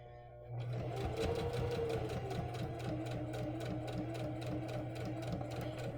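A heavy sewing machine runs at a steady, rapid stitching rhythm, loud and close, starting after a short pause and continuing without letup.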